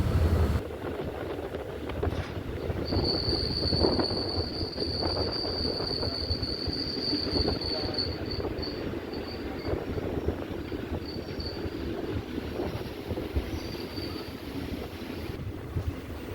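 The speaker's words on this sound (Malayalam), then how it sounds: "കരുവാറ്റ റെയിൽവേ സ്റ്റേഷനിലേക്ക് ട്രെയിൻ കയറുകയാണ്." A train rolls into Karuvatta railway station in Kerala with a steady rumble of wheels on rails and a sustained high metallic squeal of braking wheels running through the middle, heard from on board.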